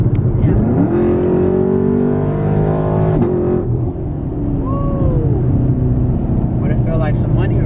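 A 2017 Camaro SS with Kooks headers idles with a heavy, rumbling exhaust and rises in a throttle pull, loud and close, while people talk over it.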